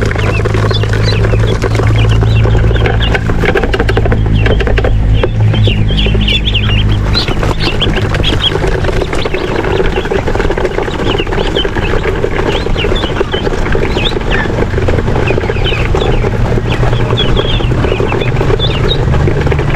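A flock of chickens with a rooster clucks and chatters continuously over a low, steady hum, with scattered sharp calls throughout.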